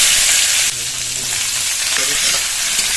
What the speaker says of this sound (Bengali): মাছ ভাজা তেলের মধ্যে ডাঁটাগুলো দিয়ে ভেজে নেব।